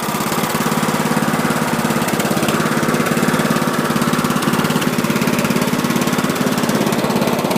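A 2006 Toro LX 420 Twin Cam riding mower engine idles loud and close, a steady, slightly rough pulsing chug that runs without a break.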